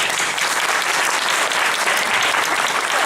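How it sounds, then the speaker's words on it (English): A crowd claps loudly and continuously, a dense wash of applause with no voices standing out. "So let's applaud Najwa."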